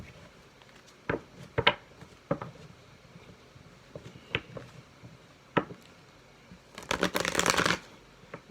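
Archangel Power tarot cards are shuffled by hand, with scattered soft riffling flicks and taps, then a louder, denser burst of card shuffling near the end, and no talking.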